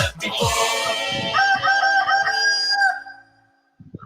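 A rooster gives one long, very loud cock-a-doodle-doo close by, the call holding steady before it tails off, with a short burst of clucking after a brief pause.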